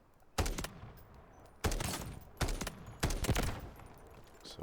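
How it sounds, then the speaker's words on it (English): Gunfire in the shooter game Delta Force in extraction mode: four loud, sharp bursts of shots fired a few at a time, close up, with short quiet gaps between them. "We've already been shooting."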